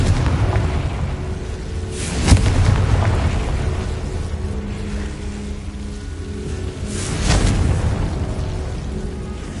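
Confringo fire-blast spell going off in Hogwarts Legacy, heard as two booming blasts over a steady rumbling game background, the second swelling more broadly.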